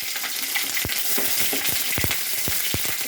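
Green chillies crackle and fry in hot coconut oil in a pan, a close, steady sizzle punctuated by sharp pops and spits, with no one talking.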